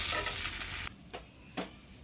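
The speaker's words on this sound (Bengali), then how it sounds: "মুসমুস করে চাপটি ভাজছি।" Steady oily sizzling of frying food, loud and close, giving way to quieter crackle with a couple of brief stirring scrapes.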